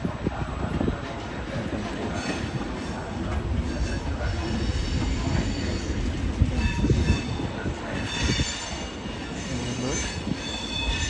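A stopping passenger train rumbles loudly at a railway station in Rome, Italy, with wheels squealing and a steady heavy roll of carriages, close and continuous.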